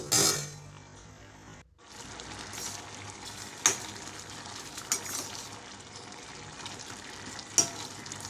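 Pumpkin curry being stirred and mashed in a pan, with a soft ongoing sizzle and occasional sharp clinks of a spoon against the pan rim, close up.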